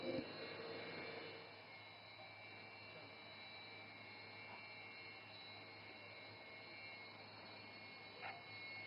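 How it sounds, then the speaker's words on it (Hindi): An Indian fighter jet at full takeoff power gives a steady, distant-sounding jet roar with a high whine throughout, slightly louder at the very start, with no clear talk over it. "And notice the aircraft is now opening full power."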